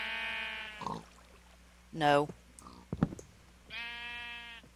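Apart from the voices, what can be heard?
sheep bleating in a video game (Minecraft)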